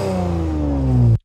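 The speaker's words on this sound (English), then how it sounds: "we have the engine, which would be the car engine from before" A car engine revs steadily and loudly in a sustained drone, used as one layer of a charge-up sound effect, cutting off abruptly at the end.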